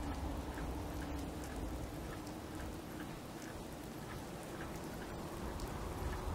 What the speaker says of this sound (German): Wieso muss das schon wieder regnen?